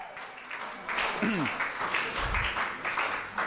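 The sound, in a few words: audience applause for BGL founder Ron Lesh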